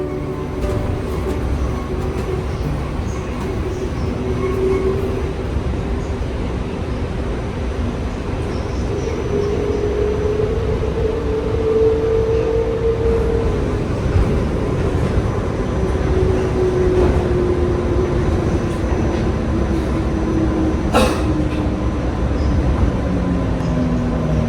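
Kuala Lumpur monorail train running toward Titiwangsa station, a steady broad rumble with rising and falling motor whine tones, continuous and fairly loud for the whole stretch, with no talk.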